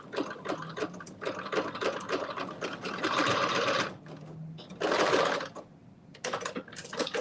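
A sewing machine back stitching along the edge of a fabric fanny pack, rapid mechanical needle chatter in several bursts separated by short pauses, close and clear with no speech.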